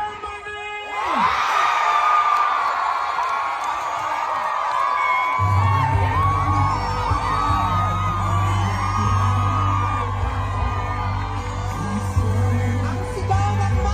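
A crowd of Filipino supporters at a Duterte rally in Germany cheers and chants, loud whooping and yelling swelling into a sustained roar with a steady low hum underneath.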